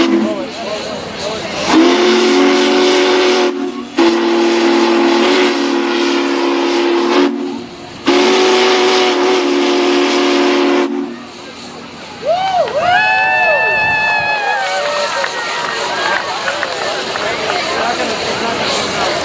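Union Pacific Big Boy 4014 steam locomotive sounds its whistle in several long loud blasts separated by short gaps, followed by hissing steam and a falling, wavering whistle tone, with voices talking in the background.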